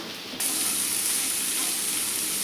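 Onions and peanuts sautéing in a hot pan, a dense, even hiss of frying that starts abruptly and holds steady at close range, with no voices.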